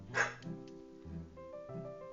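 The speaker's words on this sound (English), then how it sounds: "my dog keeps on barking" A pet dog barks and yips several times at close range indoors, with short sharp calls spaced irregularly over a couple of seconds and no talk.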